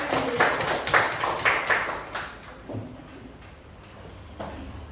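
A small class of students claps in a classroom, a short burst of uneven hand claps that starts fairly close, then thins out and fades to scattered taps.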